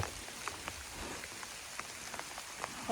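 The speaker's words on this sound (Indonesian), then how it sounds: "Mendung, hujan." Steady rain patters on the ground along a mountain trail, an even, close hiss of drops with occasional louder splats and no voices.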